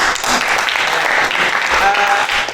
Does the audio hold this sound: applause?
yes